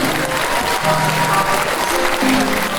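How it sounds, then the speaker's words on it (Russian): A concert audience gives sustained, dense applause that fills the whole stretch evenly, with faint tonal traces of music or voices underneath. "Аплодисменты, дорогие друзья."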